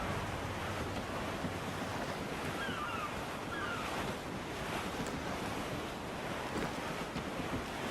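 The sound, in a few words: wind and ocean waves aboard a schooner, Assassin's Creed 4 video game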